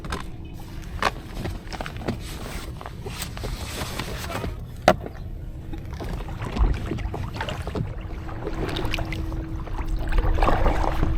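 Choppy water slapping against an inflatable kayak heading into the wind, irregular splashes and knocks over a steady wash of wind noise, close to the microphone.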